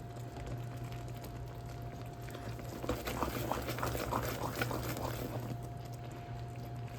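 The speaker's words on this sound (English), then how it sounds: "just watch peanut brittle bubbling" Peanut brittle candy mixture bubbling in a pan, a dense, steady popping and gurgling boil that grows busier partway through, continuous and close with no talking.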